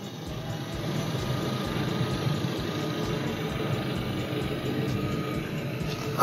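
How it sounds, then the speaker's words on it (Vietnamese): A 2015 Chevrolet Cruze sedan with automatic transmission idles steadily, its engine a continuous low rumble with even vibration, close by and alone, with no talking. "Chiếc xe này chúng tôi đang nổ máy đấy quý vị và các bạn nhé. Quý vị và các bạn nghe tiếng máy đấy ạ."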